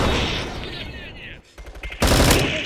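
Rapid gunfire in the first-person shooter game Bullet Force, loud bursts of automatic shots with a pause before another burst, with a player talking over it.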